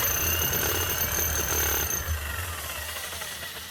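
A Makita HR5000K rotary hammer runs rough and hammers poorly, a loud continuous rattling drone with uneven pounding that eases slightly toward the end.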